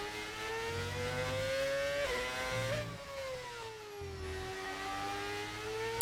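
Modded racing car engine in an F1 video game, a steady high-pitched whine that rises and dips slightly with throttle and gear changes, droning continuously throughout without speech.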